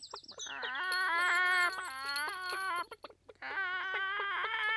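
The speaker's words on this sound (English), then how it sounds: "Oh, those hens, where are they?" Cartoon hens cluck and squawk in a rapid series of sharp, rising calls, a short pause, then another burst of agitated clucking, fairly close and clear.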